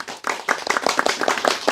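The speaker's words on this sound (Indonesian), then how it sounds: "Ayo MUI tepuk tangan." Audience clapping hands in a hall, a burst of fairly steady, moderately loud applause from many people lasting under two seconds, with no talk over it.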